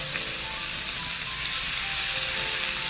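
Washed sprouted beans go into a pan of hot onions and chillies, giving a steady, even sizzle and hiss that runs unbroken throughout, with no talking.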